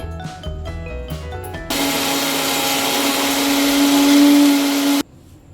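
Kitchen mixer grinding a tomato and coriander chutney with a piece of jaggery: after a few short clattering knocks, the motor roars in one loud, continuous burst for about three seconds, then cuts off abruptly.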